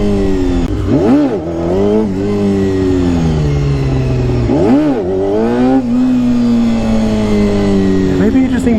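A classic four-cylinder Honda CBR250RR MC22 motorcycle revs hard in several loud rising and falling bursts during wheelie attempts, its high-pitched engine scream close and dominant, with a voice heard briefly over it.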